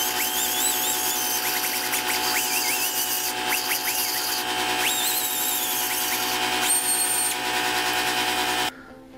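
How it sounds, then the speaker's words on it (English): Die grinder bit working the ports of a cylinder head on a 440 engine build, a high shrill whine with rising and falling pitch as it bites the metal, continuous and close before stopping abruptly at the end. "when you run the die grinder bit over it roughly, this is sort of what you're left with"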